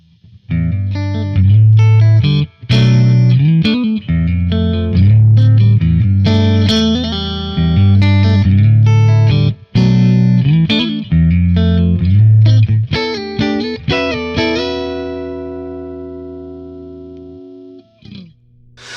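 Electric guitar played through a Mesa/Boogie Mark V tube amplifier on the channel 1 fat clean mode, with a full, warm clean tone, chords and single notes ringing out, ending on a long sustained decay.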